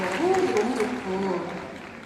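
Audience applause at the Blue Wave music festival fills the air during an on-stage talk interview, a steady wash of clapping running beneath a speaking voice.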